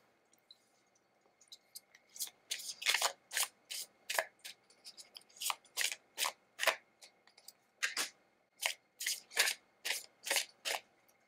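Tarot cards are shuffled by hand in a quiet room, a series of crisp riffling bursts with short pauses between them, close and fairly soft.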